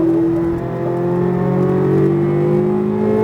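A Chevrolet Corvette Z06 engine on a race track holds a loud, steady accelerating drone with rising harmonic tones, close and continuous throughout with no voices.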